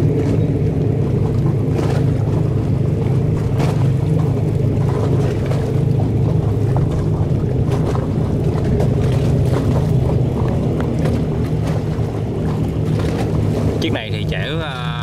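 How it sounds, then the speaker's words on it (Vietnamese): A high-speed river passenger boat carrying 250 passengers runs with a steady, droning engine roar heard from on board, continuous over wind and water noise while people talk throughout. "Mọi người nghe cái tiếng động cơ kìa"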